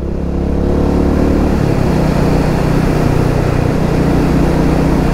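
A Royal Enfield Meteor 350 single-cylinder motorcycle engine drones steadily while riding, loud and close, its pitch shifting as the revs change, with constant wind rush throughout.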